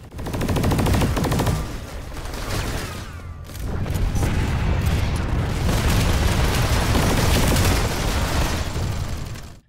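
PlanetSide 2 shooter gunfire from Serpent and VX6-7 weapons: loud, rapid automatic bursts rattle almost continuously, broken by one brief pause, with booming impacts underneath.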